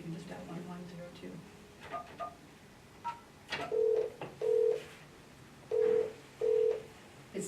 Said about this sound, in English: You just dial, you don't even have to pick the phone up, you can just dial 1102.